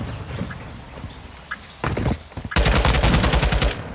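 Modern Warfare 2 gunfire: scattered single shots and distant pops give way to a loud, rapid burst of automatic fire that rattles continuously to the end.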